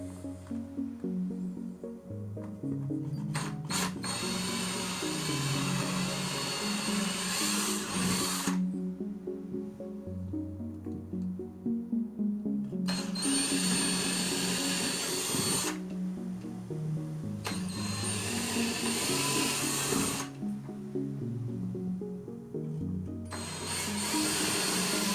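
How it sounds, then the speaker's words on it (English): A power drill with a 13/64 bit boring four holes for a ThreadStax installation, heard as long, loud whirring bursts with short pauses between them, repeated across the clip with no talking. "drill the 4 holes"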